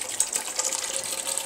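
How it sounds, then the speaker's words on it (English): Acid solution pours steadily into a tube about 18.5 inches deep during a knife acid treatment, a continuous close splashing trickle with no pauses. "I'm going to pour that in there."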